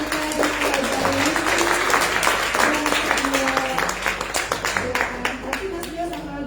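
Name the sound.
audience applause for the seminar speakers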